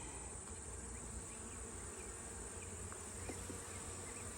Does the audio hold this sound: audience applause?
no